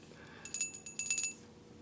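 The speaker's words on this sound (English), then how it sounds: "This is what we're making. A little silver bell." A small handmade silver bell rings in a few quick, bright, close strikes. The clear metallic tones shimmer briefly and then fade into quiet.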